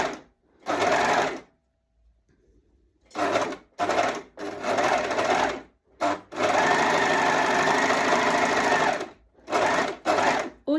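An overlocker (serger) sews fabric around a corner in several loud, close bursts of rapid mechanical whirring, short runs and one longer run, separated by silent pauses.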